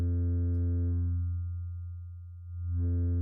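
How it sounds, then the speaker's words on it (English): A sustained synth note from a sine wave fed through distortion, buzzy and harmonically rich, holding steady, thinning in the middle as the level drops, then swelling back to full grit. "see how the distortion gets heavier when you make it louder going into the distortion"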